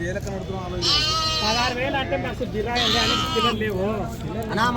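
Sheep bleat repeatedly, wavering cries rising over a busy sheep market background with people talking and bargaining nearby.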